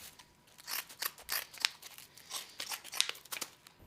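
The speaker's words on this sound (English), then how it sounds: "had to cut a new piece of sandpaper and continue going through every little nook and cranny" Scissors cut through a sheet of sandpaper with repeated crisp snips and gritty scraping strokes, close and fairly quiet, with no talking.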